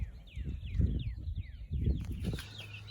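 Young meat chickens on a homestead farm cluck and peep in a cluster of quick, rising chirps and soft clucks, fairly faint and close, with light rustling and shuffling beneath.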